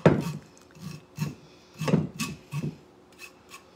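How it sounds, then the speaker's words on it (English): Leftover pork chop and fiesta corn scraps are scraped off a dish in several short, rasping strokes with small pauses between them. The scraping is close and fairly loud. "I can't throw that away without scraping it."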